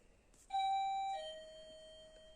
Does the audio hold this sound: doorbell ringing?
yes